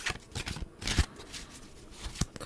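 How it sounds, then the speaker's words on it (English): A deck of cards is shuffled close by, giving soft riffling and flicking bursts with a few louder snaps, fairly quiet, with no voices. "Currently shuffling cards."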